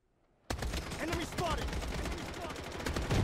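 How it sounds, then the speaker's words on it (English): Bombardment and gunfire in the shooter Project Bloodstrike break out suddenly, a dense, loud barrage of rapid shots and heavy impacts rolling on continuously after a quiet start. "Oh, bombardment on me."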